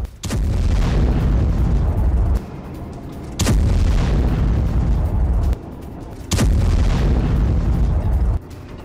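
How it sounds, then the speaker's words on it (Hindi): Explosive booms from strikes on an American Abrams tank, three heavy blasts at regular intervals, each followed by sustained loud rumbling, with short quieter gaps between them. "ड्रोन के इनपुट के बाद अब्राम्स पर सटीक हमला किया गया।"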